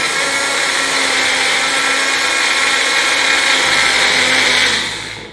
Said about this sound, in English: Here is my blender.